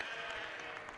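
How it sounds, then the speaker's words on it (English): At a junior sheep show in Humboldt, Saskatchewan, a crowd claps in soft, continuous applause, faint and a little distant, with no talking over it. "let's give these junior members a big round of applause"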